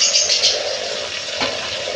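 Crab pieces and potatoes frying with spices in a pan make a steady close sizzle, with a brief stirring scrape partway through and no voices.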